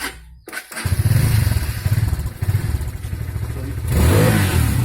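A big-bore Honda XR150 motorcycle with stock exhaust cranks and catches after a brief pause, then runs with a loud, rumbling idle that swells briefly toward the end.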